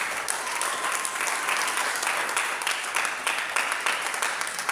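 A church congregation applauds during a service, with dense, sustained clapping from many hands filling the room steadily throughout.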